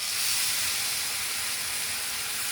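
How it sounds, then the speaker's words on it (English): Beef broth poured into a hot pan of well-browned, reduced venison and mushrooms gives a loud, steady hiss and sizzle of steam that carries on unbroken throughout. "What I'm going to add next, a little bit of beef broth."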